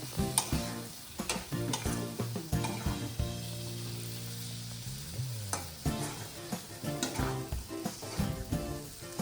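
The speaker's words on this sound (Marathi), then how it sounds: "हा काळा मसाला आहे आपला आणि हे आता फिरवून घेणार आहे" Black masala sizzling in a pan while being stirred for a mixed vegetable dish, with repeated sharp scraping and clanking of a utensil over a continuous crackle.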